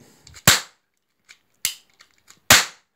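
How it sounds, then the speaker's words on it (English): Cannons fire during a pirate raid in a game: three sharp, loud blasts roughly a second apart, each decaying quickly, with faint smaller pops between them. "And fire all your cannons off."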